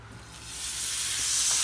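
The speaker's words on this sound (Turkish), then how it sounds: "Şimdi etimizi döküm tavamıza koyacağız." Steak sizzling in a hot cast iron pan for an entrecôte, a steady broadband hiss that swells and grows louder over the short stretch, close and alone with no voices.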